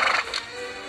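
A horse gives a short, loud, close neigh that breaks off after a fraction of a second, heard alone with no talking.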